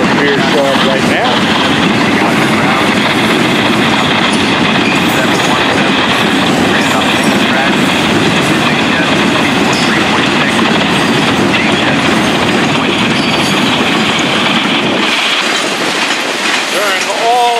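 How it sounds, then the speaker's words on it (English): Freight trains roll past in Fort Pierce, a loud, close, continuous rumble of heavy railcars with rhythmic clickety-clack and faint wheel squeal, easing slightly near the end. "Branch line trains to the yard job. Rolling towards here."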